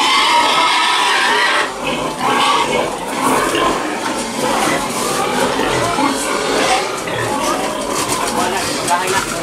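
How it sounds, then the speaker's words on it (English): A pig on a farm grunting and oinking up close, a continuous rough, noisy stream of snorts with people talking over and around it. "She's a good pig."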